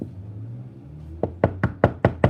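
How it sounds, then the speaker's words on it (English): Knuckles knock on a door in six quick, evenly spaced raps after a second of low background murmur. "knocking on doors. I was like this."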